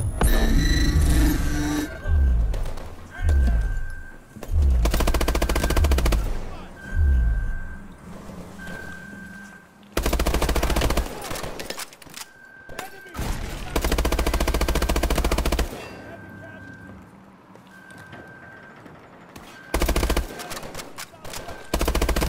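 Bursts of automatic gunfire from Call of Duty: Advanced Warfare come in repeated loud volleys with short pauses between them, along with electronic tones and game sounds.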